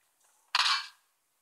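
A single gunshot in a battle-royale-style video game, one sharp, bright crack with a short decaying tail, alone.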